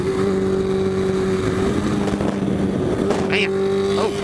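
Kawasaki H2 motorcycle pulling away in first gear on a cold day, a loud, close engine tone holding steady with rising roar and wind noise, a brief higher squeal near the end.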